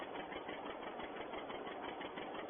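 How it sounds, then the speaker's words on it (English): Steady, continuous tractor engine running on a farm in 1951, a mid-pitched mechanical drone with a fast even chatter, close and loud throughout with no voices. "This tractor will go on and do some carting"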